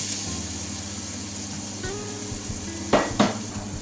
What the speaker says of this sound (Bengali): আপনারা দেখতে পাচ্ছেন আমার চিকেন দো পেঁয়াজ ভুনা হচ্ছে।